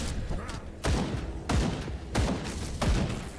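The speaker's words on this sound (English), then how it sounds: "Just the isometric angle of you just blowing a skeleton apart with a bolt-action rifle." Four heavy bolt-action rifle shots boom at a slow, even pace in the isometric action RPG Grim Dawn, each a sharp thump with a short decay, under faint game ambience.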